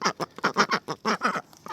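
Pair of pet ducks quacking close by in a backyard duck run, a rapid series of about ten loud, nasal quacks in short bursts with brief gaps between.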